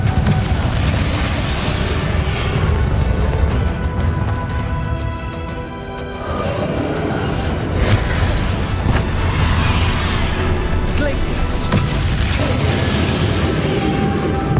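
Bombarda spell explosions in the video game Hogwarts Legacy, heavy booming blasts repeated through a loud, dense battle mix with a brief lull midway before the barrage resumes.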